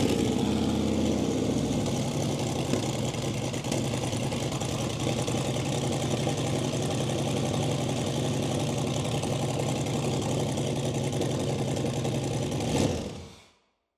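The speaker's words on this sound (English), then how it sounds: "we'll go ahead and start our engine." A car engine with a newly installed FiTech wiring harness runs steadily at idle, a continuous low rumble close by, cutting off abruptly near the end.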